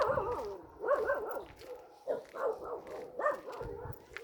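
Dogs bark repeatedly in quick, yappy bursts close by, several rounds with brief pauses between them.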